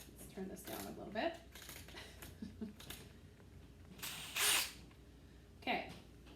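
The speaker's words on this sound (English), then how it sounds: "So you'll put it through the hole, and you drill it in" A power drill whirs in a few short bursts, driving screws while assembling a cube chair, the longest burst near the end, with scattered clicks and handling noise between them.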